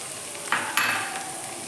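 Salt, turmeric and green chilies fry in a pan for tomato rice, giving a steady close sizzle with a couple of brief stirring scrapes, no talking.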